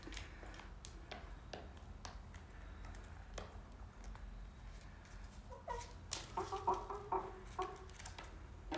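Backyard chickens clucking softly and intermittently through a quiet evening, with scattered low calls and a few louder bursts near the end over a steady low background.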